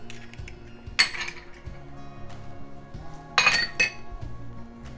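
An egg cracked against the rim of a mixing bowl while making chocolate cake batter: two sharp, bright clinks about two seconds apart, with quiet kitchen handling sounds in between.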